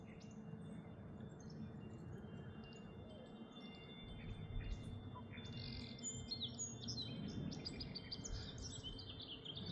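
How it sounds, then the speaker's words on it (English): Birds chirp and tweet outdoors in quick, faint, repeated calls over a soft steady background hum, growing a little busier toward the end. "you hear those birds? That is the best sound ever."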